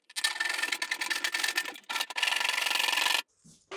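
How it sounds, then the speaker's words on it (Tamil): A marked section of pipe being cut out by hand, a steady rasping saw stroke that runs almost continuously, pauses briefly, resumes, then stops with a few softer handling sounds. "இப்போ நம்ம மார்க் பண்ணி வெட்டின இந்த பைப்பில் இந்த பகுதியை மட்டும் தனியாக கட் பண்ணி எடுத்துக்கலாம்"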